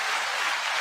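A short burst of audience applause, a dense steady wash of clapping at moderate distance with no breaks.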